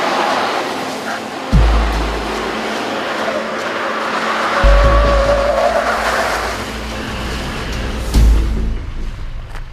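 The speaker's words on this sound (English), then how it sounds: "Only us Americans know how to do burnouts in dualies." A Chevy Silverado dually pickup truck does a burnout, its engine surging in hard bursts while tires squeal and skid in a loud, rough, continuous wash of noise.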